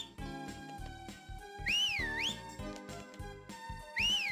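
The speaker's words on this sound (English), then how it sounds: "So whistling is another one of the tasks that we need to do a lot of to get a music note" A character whistles a wavering, sliding tune twice in Harvest Moon: Magical Melody, each clear whistle rising and falling over busy, bouncy background game music with plucked and chiming notes.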